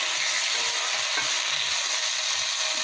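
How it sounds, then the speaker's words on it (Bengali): Boiled flat beans frying in a little oil, a continuous dense sizzle held at an even level for a few seconds, close by and without speech. "হালকা তেলে ভেজে নিচ্ছি।"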